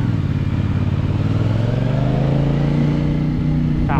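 A 2024 CF Moto motorcycle engine pulls hard on a test ride, revving continuously and loud, its pitch climbing steadily as it accelerates.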